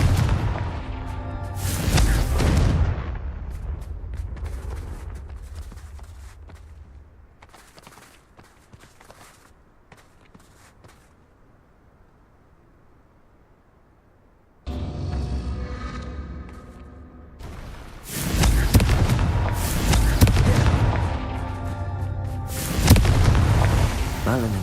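Fire spell explosions burst in Hogwarts Legacy, a loud booming blast early on, a quiet stretch, then several heavy rumbling explosions close together near the end.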